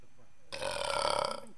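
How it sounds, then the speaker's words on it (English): A loud, drawn-out burp lasting about a second, heard close up after a moment of quiet. "I can get away with burping because I'm cute."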